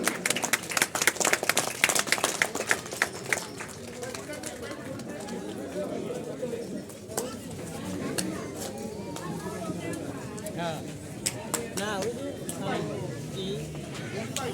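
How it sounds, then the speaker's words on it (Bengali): An audience at a formal gathering claps to welcome guests, with brisk applause loudest at the start and thinning out, while a crowd chatters and voices talk over it. "আপনারা করতালির মাধ্যমে সবাই স্বাগত জানাই।"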